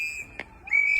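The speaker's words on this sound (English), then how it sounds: "Bystanders are blowing whistles and yelling at federal agents." Bystanders at a street protest against federal agents blow whistles: a sustained shrill tone, a brief pause, then a louder piercing blast that carries to the end, fairly near.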